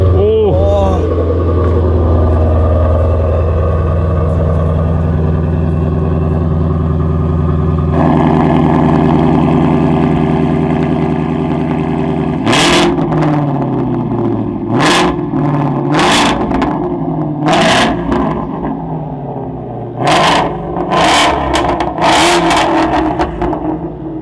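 A Ford Mustang GT350 engine idles with a deep rumble, then gets repeated sharp revs, each rising burst dropping back to a burbling idle, close and loud, with a voice briefly heard nearby.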